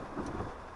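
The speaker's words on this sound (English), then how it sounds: "it's literally downpouring" Heavy rain pouring down outdoors, a dense steady wash of noise with wind buffeting the microphone, short and fairly faint.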